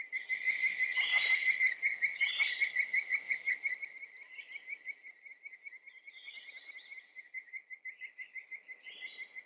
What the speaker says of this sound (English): Ben Peterson, played by James Whitmore, can't seem to find the source of this strange high-pitched sound everyone keeps hearing.